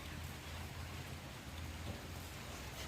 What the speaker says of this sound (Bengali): বাইরের ওয়েদার হালকা ফুলকা বৃষ্টি পড়ছে